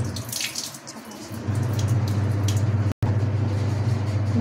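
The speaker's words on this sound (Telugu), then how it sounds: "ఇప్పుడు దీనిపై నుంచి కొన్ని చల్లనీళ్ళు పోసుకొని" Cold tap water pours over soaked soya chunks in a kitchen strainer, a steady close hiss and splash that swells after a quieter start and breaks off briefly before resuming.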